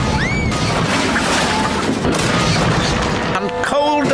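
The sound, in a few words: crash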